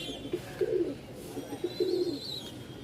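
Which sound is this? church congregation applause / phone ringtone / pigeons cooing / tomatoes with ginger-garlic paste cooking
pigeons cooing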